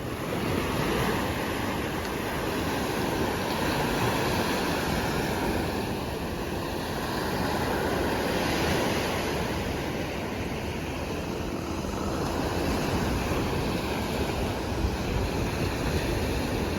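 Steady roar of surf on Watu Beach at Lamaru, Balikpapan, a continuous broad wash of breaking waves with wind buffeting the microphone and no voices.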